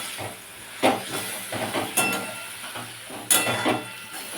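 Boiled, squeezed soybean chunks hit a hot pan and sizzle, making a loud, steady hiss close up, with a few sharper bursts and clatters of utensils against the pan.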